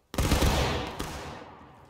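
A musket volley from an infantry company in the War of Rights battle game cracks out sharply all at once, loud and close, then rolls away in a long fading echo across the field.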